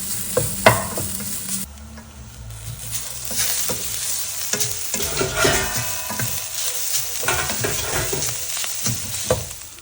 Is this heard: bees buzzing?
no